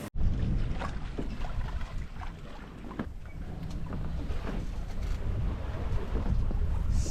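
A sailboat beating into the wind at sea near sunset, steady wind roar and waves washing against the hull, loud and continuous with gusty swells throughout.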